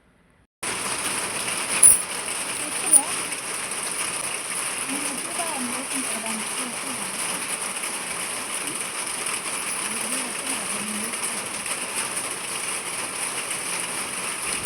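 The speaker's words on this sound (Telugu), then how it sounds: "సౌండ్ విన్నారు కదా! వర్షం ఎంత పెద్దగా పడుతుందో." Heavy rain falling steadily, a dense continuous hiss close by with a couple of brief knocks early on, with faint background sounds beneath.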